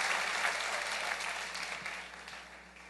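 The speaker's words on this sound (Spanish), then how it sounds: "Mejor démosle un aplauso al Rey bendito" Applause at a religious gathering, a dense wash of clapping from a congregation that stays steady and slowly fades over a few seconds, with no voices standing out.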